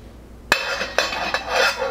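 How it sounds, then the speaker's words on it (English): A metal lid clanks onto a pot of rice boiling on a high burner: three distinct clinks spaced about half a second apart over a steady bubbling hiss. "put a lid on it"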